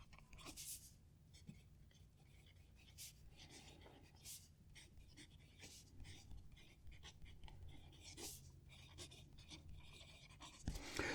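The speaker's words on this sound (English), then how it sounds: "Let's write a sentence." A fountain pen filled with Diamine green ink scratches across paper in short, faint strokes and scribbles, close and quiet, with soft breathing in the background.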